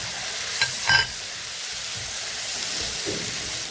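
Shallots, onion, ginger, green chili and garlic frying in hot oil give a constant loud sizzling hiss up close, with a couple of brief utensil scrapes near the start.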